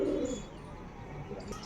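A male pigeon gives a soft, low coo at the start, then quieter faint murmurs follow against a hushed background.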